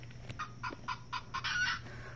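An Audubon plush bird toy plays a recorded French hen call: a quick series of about seven clucking notes that builds to a louder, drawn-out cackle, faint and close, with no talking.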